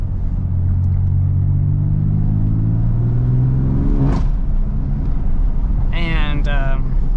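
A BMW F80 M3 engine revs with a rising, droning exhaust note that climbs over several seconds, followed by a sharp crack near the end and a brief higher-pitched burst, loud and close.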